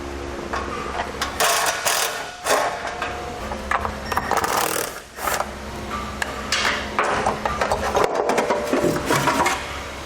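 A ratcheting wrench spins off the 10mm nuts holding the heat shield under a 2019 Chrysler Pacifica, rapid clicking bursts up close with brief pauses between runs, some metallic clinks, and no talk.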